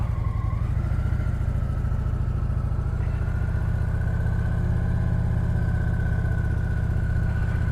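A motorcycle engine runs loud and steady at low speed while the rider slips the clutch in the friction zone, holding an even hum with a faint whine that rises slightly partway through.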